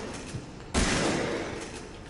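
A sudden loud gunshot blast from the Resident Evil 7 video game, ringing out alone after a quiet moment and decaying slowly over the next second and a half.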